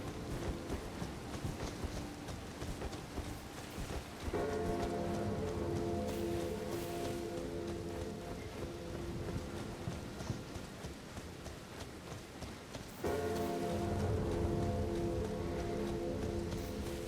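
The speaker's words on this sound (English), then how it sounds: "It's a nice, relaxing stroll through the rainy countryside." Steady rain falls over open countryside along a highway in the video game Elden Ring, a continuous soft patter. Rhythmic hoofbeats from a ridden mount trot through it and grow louder partway through.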